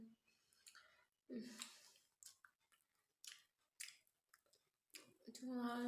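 Someone chews a medicine tablet up close in faint, irregular crunches and moist clicks spaced by pauses. A short voiced sound comes near the end.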